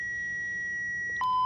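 A Cytech environmental monitoring system sounding its high humidity alarm: a steady electronic tone that switches to a different pitch with a short beep, close and continuous against a low room hum.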